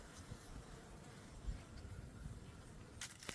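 Honey bees buzz around a hive at an apiary, a dense steady drone close by, with a brief knock or rustle near the end.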